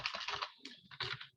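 Keys on a computer keyboard are tapped in a quick, close run of soft clicks, a brief flurry with a short pause in the middle, quiet and with no talking.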